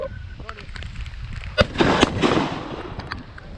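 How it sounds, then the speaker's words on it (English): A shotgun blast at wood ducks during a rainy early-season Kentucky hunt, one sharp loud report followed by a booming rumble and a smaller second crack, over steady rain-like hiss and faint talk. "Good shot. Who shot?"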